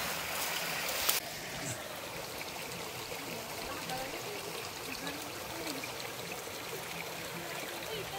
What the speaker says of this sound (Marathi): आता बघू छोटीशी नदी वाटते इथं